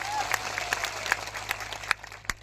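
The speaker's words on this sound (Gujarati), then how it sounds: "તમામ પોલીસ અધિકારીઓ માટે પણ જોરદાર તાળીઓ પાડી લઈએ" A crowd at a public rally in Gujarat gives scattered, moderately loud applause that fades within a couple of seconds, with a few sharp individual claps standing out over a low background hum.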